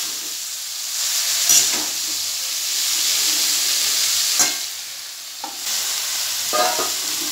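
Cabbage being stirred in a frying pan for a vegetarian Bengali dish, a steady sizzle with scraping stirs at intervals, nearby and moderately loud with no talk.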